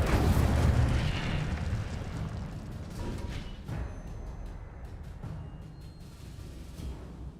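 A fiery Incendio spell is cast in Hogwarts Legacy on PS5, opening with a loud, low explosive whoosh and rumble that gradually fades into a crackling, sustained burn with scattered pops.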